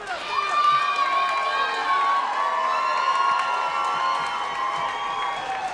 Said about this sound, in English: How everyone's cheering for Phil right now